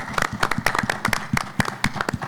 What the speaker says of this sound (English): So I want to give a huge round of applause to AFJ for the work they're doing there.